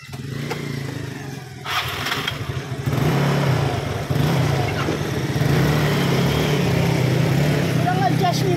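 A motorcycle engine fires up after a few quiet moments and then runs and revs with a buzzing, uneven note, close by and growing steadily louder.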